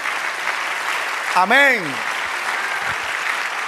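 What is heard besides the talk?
congregation applause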